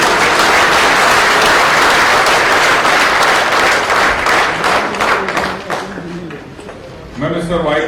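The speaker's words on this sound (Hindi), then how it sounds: "जोरदार तालियां हो जाए इस बात के लिए." Loud audience applause at a public event launching a tobacco-free police station campaign in Mumbai, sustained clapping that thins toward the end as a voice begins speaking over it.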